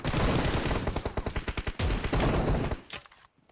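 Automatic gunfire in PUBG Mobile: a dense burst, then a run of distinct rapid shots, another loud burst, and a fade to near silence at the end, with no talk.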